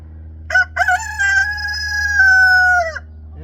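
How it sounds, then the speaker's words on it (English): A rooster crows nearby, loud and clear, one long harmonic crow lasting a couple of seconds after a couple of short opening notes. "That's one of the roosters."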